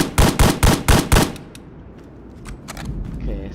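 Five rapid, evenly spaced shots from an SVD-S designated marksman rifle in the video game BRM5, loud and close, followed by a quiet tail with faint clicks.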